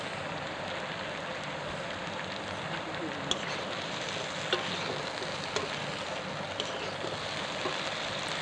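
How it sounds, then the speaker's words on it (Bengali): Vegetables for shukto, including papaya, frying in a pan while being stirred: a quiet, even sizzle runs throughout, with occasional soft ticks from the utensil. "তো আবারও আমি নেড়ে চেড়ে নিচ্ছি"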